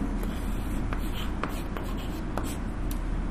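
Writing out math working for a class on polynomials, faint scratchy strokes in short irregular bursts beneath a constant loud background hum, with a voice speaking in the room.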